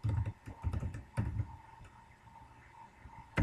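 Typing on a computer keyboard while creating a Java package for a Bukkit Minecraft plugin: a quick burst of close key clicks, a pause, a few scattered taps, then a final sharp keystroke.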